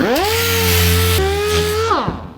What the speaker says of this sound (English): Now what we're going to do is try to sand this edge off.